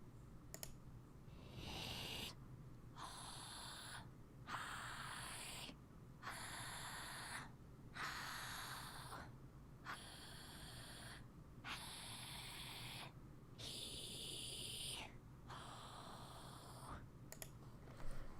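Synthesized singing breaths from the Eleanor Forte Lite voice play one after another, about a dozen breathy inhales in a steady rhythm separated by brief silences, each with a slightly different vowel color.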